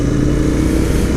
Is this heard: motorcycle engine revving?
yes